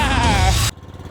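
A corroded vehicle engine runs with a rough, buzzing drone that sounds like a lawnmower. It is loud and steady at first, then drops to a quieter, uneven idle.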